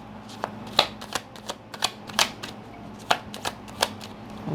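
Playing cards are shuffled close by in a quiet room, with a string of crisp riffling and snapping bursts at an uneven rhythm and no talking.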